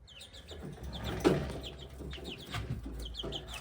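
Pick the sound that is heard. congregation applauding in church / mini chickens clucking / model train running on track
mini chickens clucking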